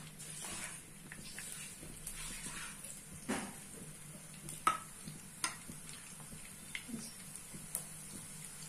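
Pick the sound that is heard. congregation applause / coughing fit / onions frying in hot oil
onions frying in hot oil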